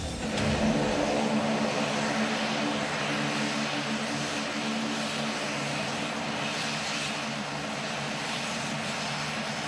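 An Indian VIP aircraft, a head-of-state jet comparable to Air Force One, roars steadily and loudly overhead with a broad sustained engine drone throughout and no voices.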